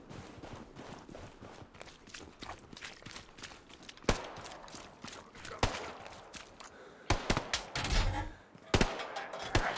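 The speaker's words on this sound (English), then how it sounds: "We got someone here shooting at us." Gunfire in the World War II shooter Hell Let Loose, with sharp shots cracking out sporadically amid a dense, noisy battlefield bed, a loud burst near the four-second mark and clustered volleys toward the end.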